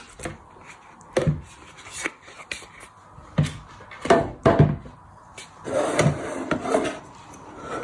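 Boiled potatoes are mashed in a pan for a cottage pie, with repeated scraping, rubbing thumps of the masher against the pan bottom in an uneven rhythm, close and fairly loud.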